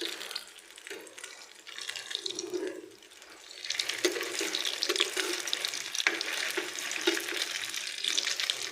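Vegetable puff sandwich frying in a pan, a soft steady sizzle and bubbling that swells louder after a few seconds and continues evenly, with no talking.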